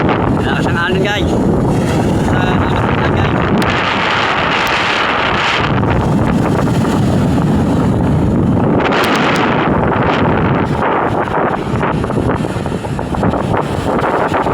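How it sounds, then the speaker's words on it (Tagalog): A boat rides strong waves in heavy wind, with constant loud wind buffeting against the microphone and rushing water throughout, and a voice speaks over it. "Malakas ang alon guys."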